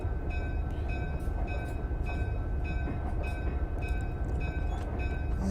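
A train pulls into a platform in the Railworks train simulator game, a continuous loud rumble with steady tonal hum and rhythmic clicks from the wheels over the rails.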